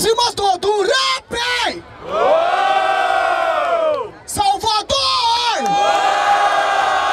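A crowd at a rap battle in Barueri cheers and shouts loudly in long bursts, with one voice yelling out a word between the roars.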